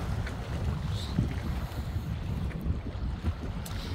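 Sea waves wash on the Greek coast in a warm breeze, a low rolling surge partly buried under gusty wind rumble on the microphone, with no voices.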